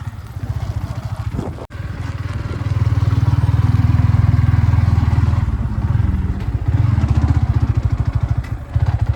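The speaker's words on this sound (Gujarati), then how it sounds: "બાઇક ચલાવે છે" A motorcycle engine runs steadily and close, with a low throbbing drone and a brief dip near the start, heard while the bike is ridden along a road near a dam.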